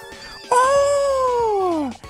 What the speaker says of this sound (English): It's the cat again!